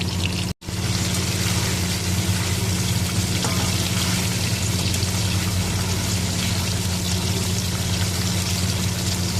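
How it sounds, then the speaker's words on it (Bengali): Paneer cubes fry in hot turmeric-tinted oil, a continuous soft sizzle with a steady low hum underneath and one very brief dropout near the start. "হলুদ তেলে পনিরগুলোকে ভেজে নিচ্ছি"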